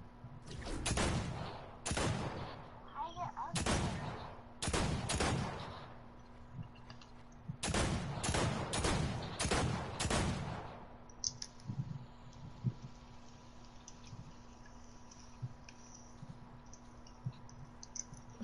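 Bursts of video game gunfire, a dozen or so loud sharp shots in two clusters over the first ten seconds, then only a quiet background hum with faint scattered clicks.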